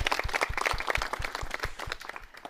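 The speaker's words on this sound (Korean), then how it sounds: "여러분 박수 부탁드립니다" Audience applause at a presidential radio and internet address special event, a steady crackle of many hands with a few sharper claps standing out, fairly close and continuous throughout.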